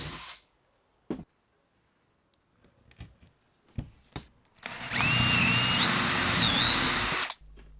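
Power drill boring into a wooden bridle-joint solar panel frame, preceded by scattered handling knocks and clicks, then a loud sustained whine for about two and a half seconds whose pitch rises in steps before cutting off.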